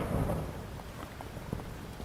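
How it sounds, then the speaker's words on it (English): Steady rain falls in the farming video game Fields of Mistria, a soft broadband hiss with scattered drop ticks and no talk over it. "I guess I don't need to water all my plants because it's raining."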